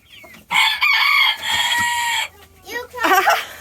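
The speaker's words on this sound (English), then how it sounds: "cock-a-doodle-doo. He sure did. That was shrill." A rooster crows loudly and shrilly up close, a long drawn-out call followed by a few shorter clucking notes.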